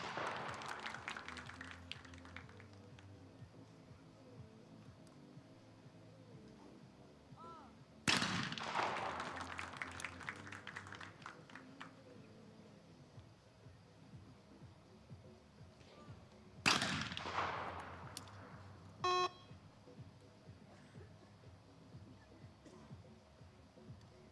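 Shotguns at a women's trap shooting competition in Osijek, Croatia: two loud, sharp blasts fire some eight seconds apart, each ringing out with a long rolling echo over an open range, a brief thinner pop following the second.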